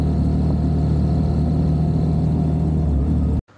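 Steady, loud motorcycle engine hum on a road in Vietnam, continuous low drone with mid-range whir, cutting off abruptly near the end.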